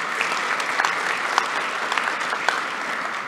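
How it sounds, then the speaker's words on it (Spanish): Steady audience applause fills the room after a Spanish-language technical talk on network observability and telemetry, a dense even patter of many clapping hands with no voices over it. "un aplauso para nuestro ponente"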